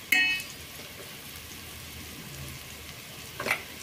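Vegetables for a vegetable pulao fry in a pan with a soft, even sizzle, and a sharp utensil clink sounds at the start and again near the end; no one speaks.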